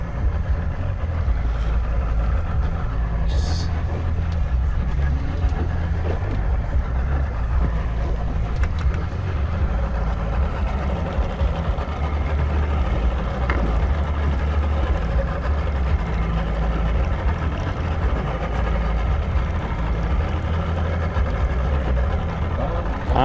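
Fishing boat engine idling offshore while a line is dropped, a steady low droning hum under wind and water noise, moderately loud and continuous with no talking.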